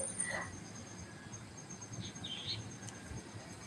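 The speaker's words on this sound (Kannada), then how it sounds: "ಇಲ್ಲಿ ಪಕ್ಷಿಗಳ ಸೌಂಡು ಕೋಗಿಲೆ ಕೂಗೋದೆಲ್ಲ ಕೇಳಿಸುತ್ತೆ" Birds chirp and a cricket-like insect trills outdoors in the cool morning air, with faint high calls scattered over a steady low background hum; no clear cuckoo call stands out.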